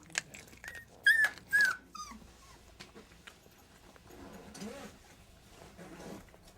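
Dogs whimper and yip in high, sliding cries, a few close together near the start, followed by quieter scattered whines over a low background rumble.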